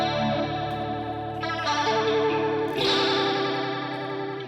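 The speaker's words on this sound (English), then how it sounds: "We all know that flanger at the end of the day is a mover in frequency underneath the sound" An electric guitar runs through an Electric Mistress flanger pedal, sustained chords with a sweeping, jet-like whoosh moving through the tone, loud and alone.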